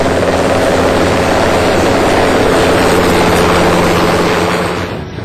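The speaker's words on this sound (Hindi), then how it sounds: "एक साथ 3 चिनूक हेलीकॉप्टरों ने पूरे आकाश को मानो थर्रासा दिया" Three Chinook helicopters thunder overhead in a loud, continuous rotor and engine roar that holds steady for about five seconds before beginning to fade, with no one talking.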